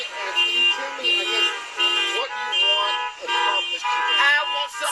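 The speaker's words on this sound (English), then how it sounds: "Sorry about the honking." Car horns honking at a street rally for in-person school in Nashville, Tennessee, several loud overlapping toots in repeated bursts close by, with crowd noise underneath.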